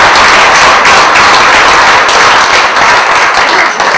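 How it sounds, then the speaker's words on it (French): Audience at an evening event at Collège Albert Camus applauding loudly and continuously, a dense close wash of clapping that stays steady throughout. "Et on peut les applaudir à ce moment."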